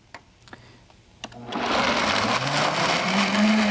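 A countertop blender whirs up 1.5 cups of water, starting after a few soft knocks and then running as a loud, steady, close motor roar for the rest of the moment.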